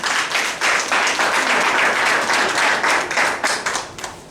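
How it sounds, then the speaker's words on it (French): Wedding guests applaud the groom's first witness at a civil ceremony, a loud, close burst of many hands clapping steadily for several seconds with slight rhythmic swells and no talking over it. "que l'assistance acclame le premier témoin"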